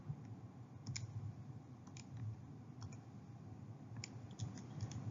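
Calculator keys pressed in quick, irregular taps, close and crisp, a series of light plastic clicks spread over a few seconds with no talking.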